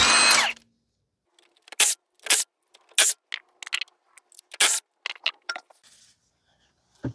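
A power tool whirs in a short burst while pulling a rear wheel off a 2010 Toyota Corolla 1.8. Scattered clicks, clinks and metallic clatter follow through the quiet stretch that comes after.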